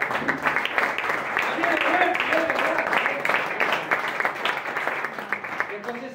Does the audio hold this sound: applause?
yes